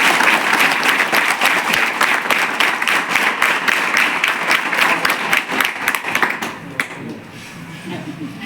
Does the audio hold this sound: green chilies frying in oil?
no